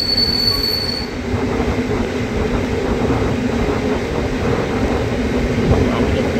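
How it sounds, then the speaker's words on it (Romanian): Iași–Timișoara passenger train on Romanian CFR rails passing close, wheels squealing and rumbling loudly and steadily over the whole stretch, with a faint tone at the start. "Trenul de Iași-Timișoara."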